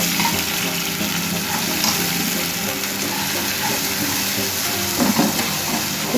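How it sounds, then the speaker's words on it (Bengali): Turmeric and chili powder mixed with water hitting hot oil, a dense, even hiss of frying that carries on at steady loudness for the whole stretch, with no voices. "তো আমি হলুদ আর একটু চিলি পাউডার গুলে রেখেছিলাম, সেটাকে আমি তেলের উপর ঢেলে দিই।"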